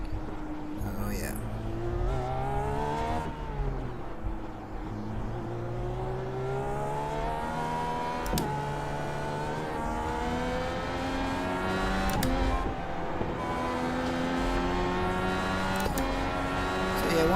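A Dallara IR18 IndyCar in iRacing drones at high revs through a long stretch, its engine pitch rising and dipping with brief shift breaks as it laps the circuit.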